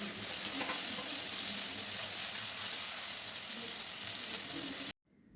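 Steady loud sizzling of onions and tomatoes sautéing in a pan for barnyard millet kichadi, with occasional stirring scrapes, continuous for several seconds before cutting off abruptly.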